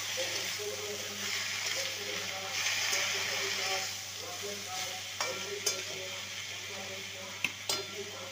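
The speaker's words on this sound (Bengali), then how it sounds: "পালং শাকটা ভাজা হয়ে গেছে" Spinach fries and gets stirred in a pan as its water cooks off: a steady low sizzle with soft stirring scrapes and a few sharp clinks near the end, fairly quiet and close.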